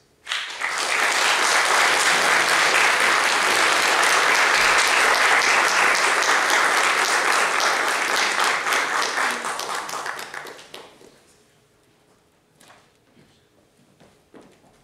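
An audience at the launch of the CD Nas Cordas do Violão applauds the guitarist Marcos Gomes with loud, dense clapping that holds steady for about ten seconds, then thins into a few scattered claps and near silence.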